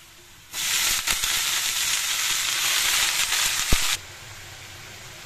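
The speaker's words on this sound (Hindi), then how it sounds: "अब हम इसमें साग डालेंगे।" Mustard greens hit a hot pan with ajwain, bursting into a loud, steady sizzle that holds for about three seconds, with a few sharp pops and clatters, then drops away abruptly to quiet background.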